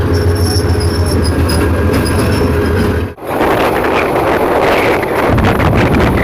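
A passenger train hauled by a 2500 series locomotive rolls into Dhaka's Tejgaon station, loud rumbling wheels and rattling carriages with wind buffeting the microphone, a brief dip midway, then continuing heavy clatter.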